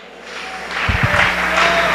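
Church congregation clapping in a short round of applause during a Spanish-language sermon, a few sharp near claps swelling into a brief burst over a room hum.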